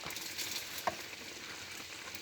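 Chicken feet fry in hot oil with a soft, steady sizzle and faint crackling pops, close and fairly quiet, with no talking.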